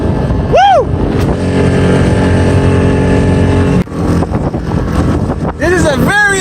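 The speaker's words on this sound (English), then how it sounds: "And this motor I'm going about 10, 12 miles per hour at half throttle." A Tohatsu 6hp outboard motor runs at half throttle on open water, a steady close droning hum with wind buffeting the microphone; a voice cheers briefly near the end.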